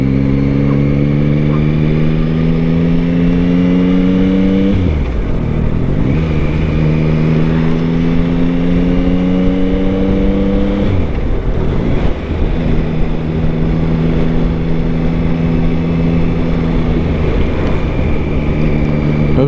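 A 2023 Yamaha MT-09 motorcycle engine on a test ride revs up through the gears in repeated rising sweeps, loud and close, with a steady roar and wind rush between shifts.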